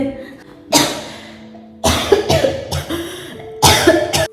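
Repeated harsh coughing fits, close and loud, in three bursts separated by short pauses, with some throat rasp between them.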